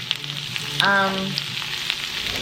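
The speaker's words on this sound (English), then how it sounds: "I'm just sauteing the onions" Onions sizzle steadily in hot oil, a soft continuous crackle, with a brief tonal chirp briefly rising above it.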